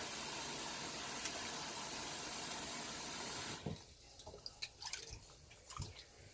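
Running cold tap water pours into a sink over raw, partly frozen chicken parts, a steady loud rush that stops partway through, leaving scattered drips and soft handling splashes.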